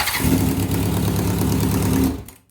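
An engine with a large exhaust leak cranks and catches, running with a rough, throbbing idle for a couple of seconds before cutting off abruptly; no voices.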